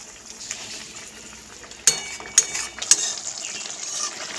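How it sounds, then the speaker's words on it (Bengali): Small mourala fish in a mustard-oil curry simmering in a pan: a soft, continuous bubbling hiss, broken by three sharp metallic clinks of a utensil against the pan, close and without speech. "মাছের ঝোলটা ফুটতে শুরু করে দিয়েছে"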